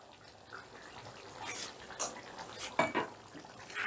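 A soybean kalia curry with garam masala, coriander leaves and ghee being stirred in a pot, with soft wet squelches and a few metal spoon scrapes and clinks against the pot, faint and close, no speech.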